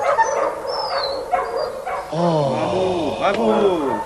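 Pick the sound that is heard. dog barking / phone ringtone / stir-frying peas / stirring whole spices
dog barking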